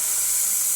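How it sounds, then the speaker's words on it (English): Steam wand of a heat-exchanger espresso machine with one large steam boiler, tested after a full service, giving a steady loud hiss with no break, alone. "But we're going to test the steam one."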